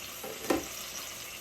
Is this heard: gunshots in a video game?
no